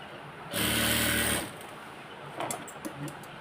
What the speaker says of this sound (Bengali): তারপরে আপনারা এভাবে ঘুরিয়ে সেলাইটা দিয়ে দিবেন